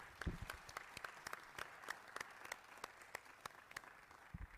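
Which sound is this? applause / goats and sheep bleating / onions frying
applause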